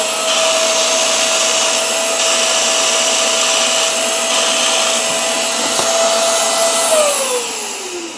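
A Hoover CleanSlate Plus carpet and upholstery spot cleaner (FH14010) runs steadily with its suction on, a loud continuous whine with a steady tone that drops in pitch as the motor winds down near the end, with no talking.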